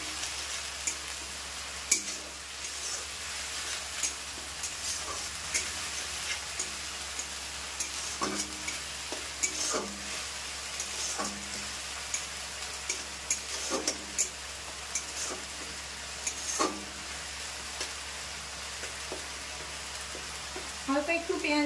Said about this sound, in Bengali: পেঁয়াজটা আমি হালকা একটু ভেজে নেব।